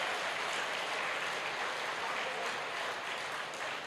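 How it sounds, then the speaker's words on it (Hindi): An audience at a live talk in Ranchi claps steadily, a dense, continuous wash of applause that stays loud throughout. "अब बजाओ ताली"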